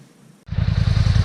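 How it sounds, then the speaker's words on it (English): Engine of a Polaris quad ATV with electronic fuel injection, catching after a brief quiet and settling into a steady, throbbing idle close by. "you can hear it's idling again"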